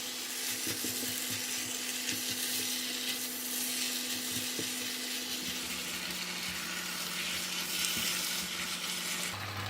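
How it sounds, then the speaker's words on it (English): Kuey teow noodles and vegetable leaves are stir-fried in a wok for tom yum fried noodles, a continuous dense sizzle with faint scraping and clinking of the utensil, steady and close, with no talking. "we're going to put in the vegetable leaf and stir in together"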